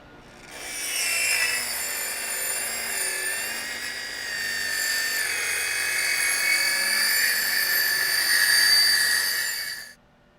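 Siding panels are cut beneath a window during horizontal wall panel installation: a steady, loud, high-pitched rasping cut runs for about nine seconds without a break, then stops abruptly.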